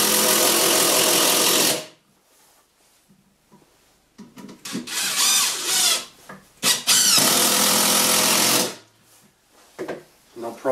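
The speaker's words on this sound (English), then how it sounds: "I'm going to be driving in some 50mm or 5 centimeter screws into some softwood" A DeWalt DCF787 impact driver drives 50mm screws into softwood in loud, sustained bursts of rapid hammering, separated by quieter gaps with brief handling sounds.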